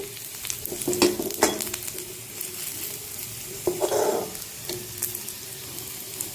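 Garlic roasting dry in a pan, with a steady sizzle and crackle throughout and stirring scrapes and clinks at intervals, the ingredient's moisture cooking off.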